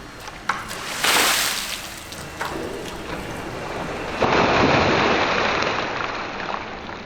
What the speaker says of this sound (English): Let's just go ahead and see what this bucket of water will do here.